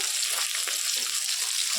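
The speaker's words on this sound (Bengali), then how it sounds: "আমার মাছটা টুপি টুপি করে ভেজে নিচ্ছি" Rohu fish pieces fry in oil in a wok, giving an even, close, crackling sizzle that holds steady throughout with no voices.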